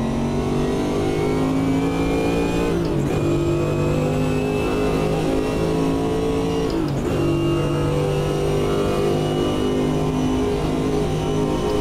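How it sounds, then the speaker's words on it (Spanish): A Chevrolet race car engine at Spa, in a Group C race from 1970, roars loud and close throughout, a harsh, sustained mechanical drone that drops briefly twice at gear changes before pulling hard again. "Cómo suena el Chevy."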